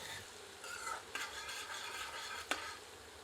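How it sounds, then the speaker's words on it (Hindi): Ginger and garlic frying in a pan for an Indian quail curry, a steady soft sizzle with spoon stirring scrapes throughout and two sharp utensil clinks against the pan, with no talking. "कुछ क्षण भूनते हैं ताकि लहसुन सुनहरा हो जाए।"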